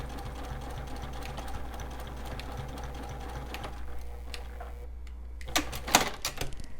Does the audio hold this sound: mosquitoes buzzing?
no